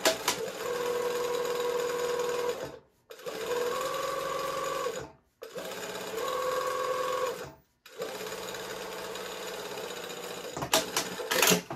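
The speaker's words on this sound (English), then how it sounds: "I'm just going to top stitch that seam at about 1/4 inch onto the yoke" A sewing machine topstitches a shirt yoke seam about a quarter inch from the edge, running in four steady whirring bursts of a few seconds each, with brief silent pauses between them and small handling clicks at the end.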